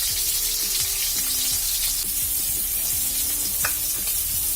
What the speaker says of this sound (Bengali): মাছটা ভাজি করতে করতে আমি এটাকে মশলাটা দিয়ে নেব।